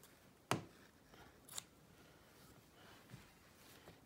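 Scissors snip through the threads between chain-pieced denim quilt strips, giving a few sharp, quiet cuts at irregular intervals in an otherwise hushed room.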